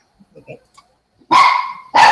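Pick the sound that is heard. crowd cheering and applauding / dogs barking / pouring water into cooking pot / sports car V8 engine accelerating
dogs barking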